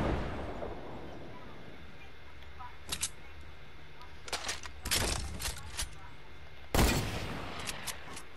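Gunfire in the Fortnite video game, several short bursts of shots scattered over a quiet background, one louder burst standing out near the end, with talk around them.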